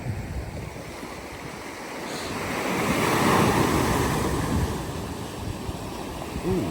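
Ocean waves wash onto a Maine beach late at night, a steady rolling surf that swells and recedes with some wind rumble on the mic, no voices.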